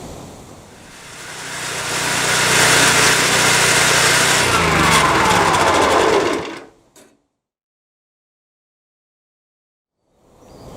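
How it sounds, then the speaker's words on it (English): A Hyundai HYCH7070E-2 petrol wood chipper runs loud and steady for about six seconds, its engine roar dropping as it is switched off, followed by near silence. "This has been the HYCH7070E-2 wood chipper."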